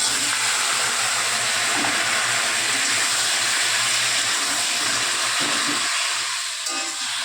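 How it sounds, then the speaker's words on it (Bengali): Mustard seeds and dried red chilies tempering in a little hot oil for a tomato chutney, a loud, continuous close hiss with faint crackles, ending in a few sharper pops. "এটা হচ্ছে সর্ষে আর শুকনো লঙ্কা ফোড়ন দিয়েছি"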